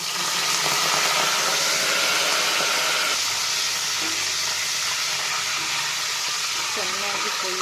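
Chopped fenugreek leaves, washed and still wet, sizzling and hissing in hot oil for tempering, a loud, dense, continuous crackle with faint stirring underneath.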